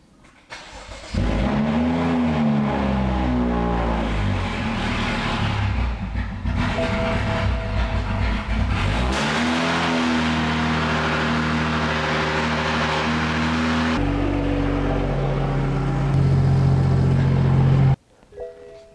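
A tuned BMW F30 with FBO upgrades, likely running on E85, starts with some difficulty, then roars loud and close. The engine revs in sweeping rises and falls, then drops to a rough, heavy idle before cutting off.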